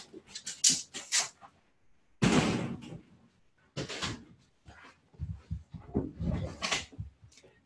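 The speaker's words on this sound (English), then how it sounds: "My dog's kind of being loud." A pet dog at home sounds off in a series of sharp, uneven bursts, barks and yelps coming in quick irregular clusters fairly close by, with short pauses between them.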